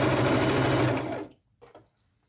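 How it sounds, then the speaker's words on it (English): Sewing machine running a zigzag stitch across fabric, a steady fast loud whirring hum for about a second before stopping, followed by faint handling clicks. "Give it a little stitch. And zigzag stitch the middle of this piece."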